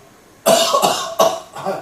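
Several deliberate coughs forced out by a man leading a Friday church service, three to four rough bursts in close succession, loud and close, with no speech around them.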